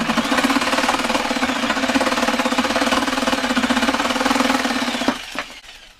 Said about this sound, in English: So now I'm going to be finished with the jigsaw in a minute.